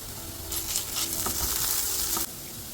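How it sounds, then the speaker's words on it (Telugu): Chopped onions fry in hot oil with curry leaves and ginger garlic paste, giving a loud, steady sizzle that swells for about two seconds and then drops back to a quieter crackle. "ఈ ఆనియన్స్ ఆయిల్లో మంచిగా ఫ్రై అయ్యే వరకు వేస్తున్నాను"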